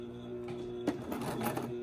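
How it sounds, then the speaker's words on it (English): A sewing machine stitches a folded seam on a homemade fabric face mask, a soft, steady mechanical whir nearby that quickens into a brief busier run of stitching, with no talk. "we're just going to turn it under and sew this in here"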